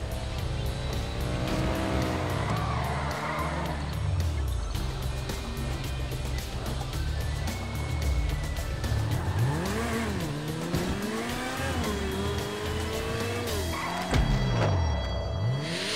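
Cars race through the streets in GTA V, engines revving and rising and falling in pitch as gears change, with tires squealing and cars sweeping close by in a loud, continuous run.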